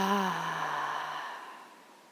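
A single slow exhale by a participant in a yoga class, a soft, breathy sigh that fades out gradually into near silence.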